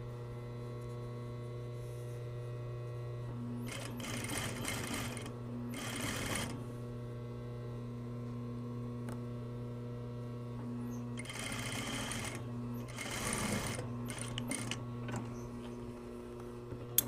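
Two short bursts of sewing machine stitching, stay or top stitching a fly facing on pants, break out over a constant electrical hum, each a couple of seconds long with quiet gaps between.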